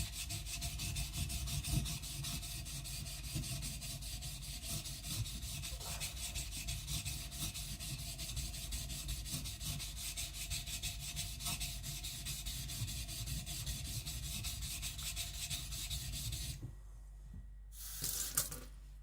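A kiridashi knife of hard steel is worked back and forth on a sharpening stone in a steady, close rasping rub that runs unbroken for most of the time, then stops with a few scattered scrapes.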